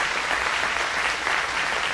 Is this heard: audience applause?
yes